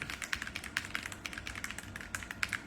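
Fingers typing on a computer keyboard, a steady close-up patter of crisp key clicks with irregular rhythm and occasional louder strikes, alone without any voice.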